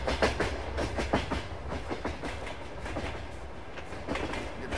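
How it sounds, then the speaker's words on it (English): A train in the video game Farming Simulator 22 rolls past with steady rhythmic clickety-clack of wheels on rails, a continuous rumbling passage at moderate loudness. "I guess the train does run through here"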